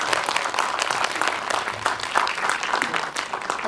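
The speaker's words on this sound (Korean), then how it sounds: "박수 한번 쳐드릴까요?" A cinema audience at a post-screening talk for the Korean film 여교사 applauds the actors, producing continuous, lively clapping from many people at a fairly even level.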